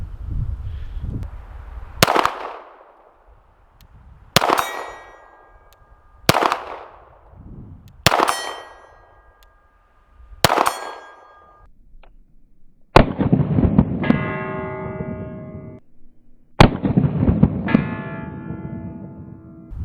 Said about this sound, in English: the last 5 rounds of the Federal HST self-defense loads. Again, it's going to be at 40 yards